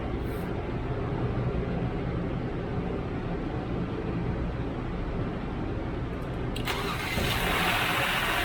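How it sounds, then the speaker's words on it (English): A Genesis G90 sedan, diagnosed for a no-crank, no-start fault, cranks and fires inside a garage, settling into a steady loud idle that swells slightly as it catches near the end. "So I'm gonna put a relay back and maybe try to start this car inside."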